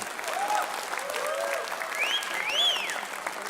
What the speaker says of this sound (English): big round of applause to them as they exit stage